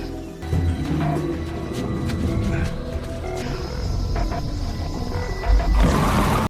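A black panther lets out a deep, rumbling roar, loud and drawn out, amid jungle ambience with other dramatic background sound.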